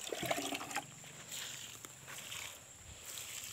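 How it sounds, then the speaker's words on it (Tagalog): Creek water is poured over cucumber plants in a garden, a faint, soft splashing trickle that runs on for a few seconds with no talking. "kaya kailangan diligan ang pipino"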